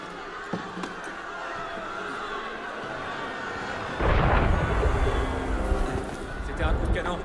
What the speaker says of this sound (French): C'était un coup de canon.